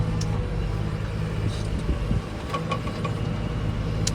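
A tractor engine working steadily while pulling a potato planter across a field, a close continuous mechanical drone with faint clicks and rattles over the top.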